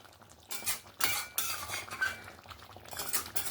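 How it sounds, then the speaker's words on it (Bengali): A spoon stirs an egg and cabbage curry with kasuri methi in a pan, scraping and clinking against the metal in close, uneven strokes over a faint sizzle. "কসুরি মেথিটা দিয়েও আরেকবার নাড়াচাড়া করে নিলাম"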